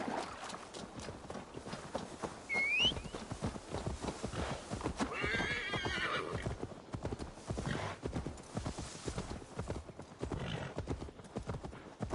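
Horse hooves clip-clop steadily through a scene in Assassin's Creed Valhalla, with a whinny near the start, over game music and ambience.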